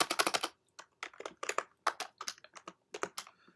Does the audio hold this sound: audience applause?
no